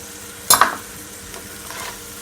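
A brief scrape and clink as Jamaican sardine season rice is stirred in a pot, one sharp stroke followed by a softer second pass over a low background hiss.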